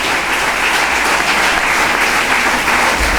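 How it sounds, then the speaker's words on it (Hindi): An audience at an education conference claps loudly and continuously, a dense even roar of many hands that sustains without pause or voices. "सो जोरदार ताली।"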